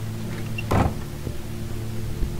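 A truck door in a game slams shut with one firm, close thud, set against a steady low engine-like hum, with a fainter knock afterward and no talking.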